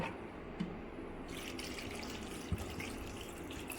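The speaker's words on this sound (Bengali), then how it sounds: "এবার আমি এখানে পরিমাণ মতো জল দিয়ে দেব" Water poured into a pressure cooker while making chana masala, a steady splashing stream running throughout at moderate loudness, with a couple of small knocks.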